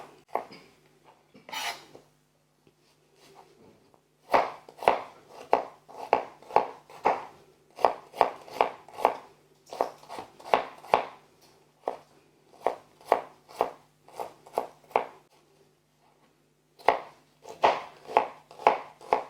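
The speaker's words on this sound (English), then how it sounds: "So we're just chopping through a couple of onions." A knife chops steadily through onions on a board, crisp rhythmic strikes in quick bursts with short pauses between, close and clear with no talking.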